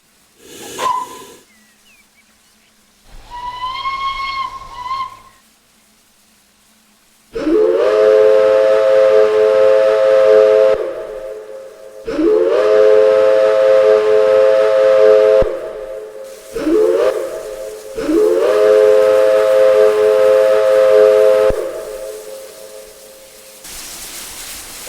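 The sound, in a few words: American-style steam whistle of LNER A3 locomotive, Train Simulator video game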